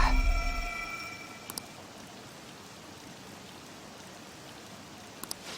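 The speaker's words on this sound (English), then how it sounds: "This rain ain't too bad." Steady rain falling in the Persona 5 Royal video game, a soft even patter with a few faint clicks, following a brief tonal sound at the start.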